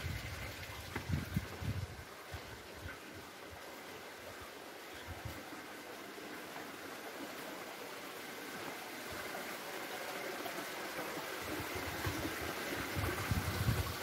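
A stream flows behind a farm kitchen in rural Goa, giving a faint, steady rushing and trickling of water at a distance, with a few soft low bumps early on and no talk.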